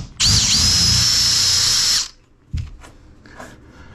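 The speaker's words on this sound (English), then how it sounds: "then take the drill and place it over the hole" Electric drill boring a straight hole through a guide block on a wooden boat: a loud, steady high-pitched whine runs for about two seconds, then cuts off, followed by a few faint knocks and handling noises.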